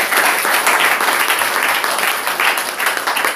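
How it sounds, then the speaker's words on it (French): A church congregation applauds a fellow member, a steady dense wash of clapping that holds loud and unbroken throughout with no talk over it. "Applaudissons pour notre frère."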